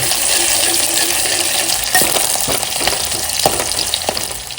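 Onion fries in sweet oil in a pan, a loud, continuous close-up sizzle with scattered crackles and pops and no voices.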